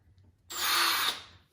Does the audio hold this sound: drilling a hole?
yes